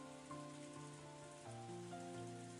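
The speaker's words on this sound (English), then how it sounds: "obnoxious pounding of rain against the window" Rain pounding steadily against a window in the Umineko visual novel: a continuous hiss of drops, fairly quiet, layered over sustained musical tones that shift pitch now and then.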